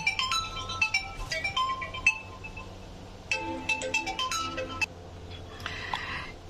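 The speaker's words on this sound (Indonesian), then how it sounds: "sorry tadi aku pause dulu ada telepon penting" Phone ringtone of an incoming call: a bright, melodic electronic tune of repeated chiming notes in bursts, moderately loud against a low background hum, with brief pauses between phrases.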